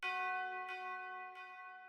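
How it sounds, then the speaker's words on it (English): One tubular bell note struck in a hip-hop beat, ringing bright and sustained with a few soft percussive ticks over it as it slowly fades. "So that's why I opted in for the tubular bell."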